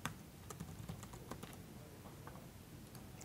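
Faint typing on a computer keyboard, scattered soft key clicks in an uneven rhythm over low background noise, with no voices.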